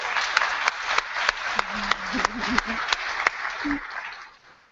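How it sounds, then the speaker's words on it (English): A roomful of people applauds an event organizer at a professional gathering, a steady wash of clapping with a few sharper nearby claps, a voice speaking briefly over it before it fades out. "she deserves a round of applause"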